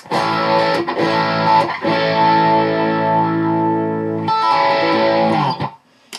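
A distorted electric guitar through a Phase Royal phaser pedal sustains thick chords with a subtle sweeping, swirling modulation, played loud and close, pausing briefly before ringing out again.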